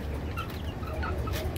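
Brahma chickens, a fancy hobby breed, give a few soft clucks and short calls over a steady low background rumble.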